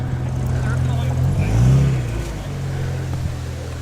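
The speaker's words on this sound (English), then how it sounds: "Oh wow, there's a Saab coming in. That sounds like a V4." A Saab with a V4 engine drives past at the VSCC Prescott hillclimb, its mid-pitched engine note swelling as it nears and revs, then easing away, with someone talking over it.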